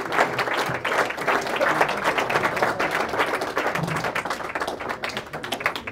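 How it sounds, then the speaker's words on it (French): A room of guests at a Fondation Actions Comores gala dinner claps hard and continuously for several seconds, the applause dense and close. "On les applaudit bien fort."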